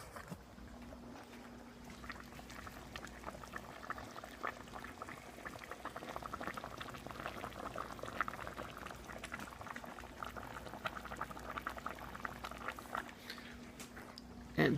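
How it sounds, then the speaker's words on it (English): Garlic cooks in liquid at a steady rolling boil in a pot, a continuous bubbling hiss with a faint low hum beneath that holds evenly throughout and ends in a brief louder knock. "It's at a good boil right now"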